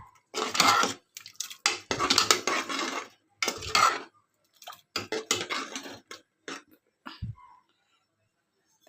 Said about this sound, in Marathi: मी आता मिक्सरचं भांडं जरा थोडंसं धुवून घेत आहे